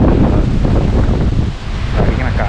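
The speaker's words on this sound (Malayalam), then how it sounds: "അത്രത്തോളം കാറ്റാണ് അടിക്കുന്ന കേട്ടോ" Strong mountain wind roars steadily and loudly across a storm-damaged village, buffeting the microphone with constant broadband gusts and no clear voices.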